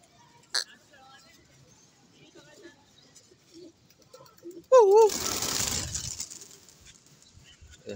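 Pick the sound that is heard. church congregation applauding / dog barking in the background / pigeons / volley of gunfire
pigeons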